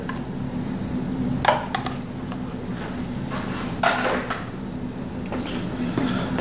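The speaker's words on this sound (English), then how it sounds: "let's add about half of that pasta" Penne pasta tipped into Alfredo sauce in a pan, with a few clattering metal scrapes and clinks of a utensil against the pan over a steady background hum.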